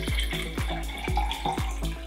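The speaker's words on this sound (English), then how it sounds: "And I'm going to fill them with water." Tap water pours into big wine glasses, making a close, rhythmic series of gurgling, glugging pulses over a running stream, without talk.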